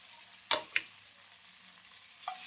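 Stuffed brinjals dropped into a pan of frying tomato: two sharp splashy hits of sizzle in quick succession, a softer third burst later, over a low simmering hiss.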